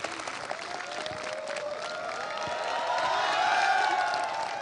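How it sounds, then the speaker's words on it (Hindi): Studio audience welcoming cricketer Gautam Gambhir with broad applause and cheering, whoops and rising shouts swelling in the second half, with the crowd filling the room evenly. "जोरदार तालियों के साथ गौतम का स्वागत कीजिए"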